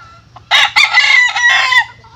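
Game fowl roosters crowing loudly up close on a farm, a long drawn-out call with a few clucks just before it, over a low steady hum.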